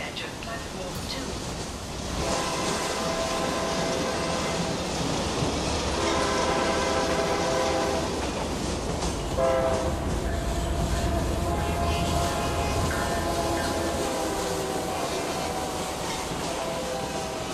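A freight train rolls past a station platform with a steady heavy rumble and a sustained horn-like tone, rising in loudness after a couple of seconds.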